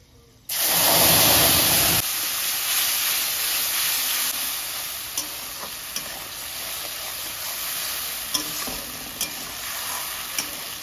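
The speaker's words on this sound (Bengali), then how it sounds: "আমি ফোড়নে দেব তেজপাতা, শুকনো লঙ্কা আর গরম মশলা।" Bay leaf, dried chilli and garam masala hit hot oil for a tempering, bursting into a loud, close sizzle that settles to a steady frying hiss with occasional sharp pops and spoon clicks.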